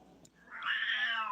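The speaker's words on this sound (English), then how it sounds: "I have Siamese and they meow" A Siamese cat lets out a single long, drawn-out meow, loud and close, rising and sustained for about a second with no talking around it.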